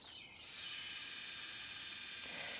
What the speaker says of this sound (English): Again, I am attaching them with exterior screws.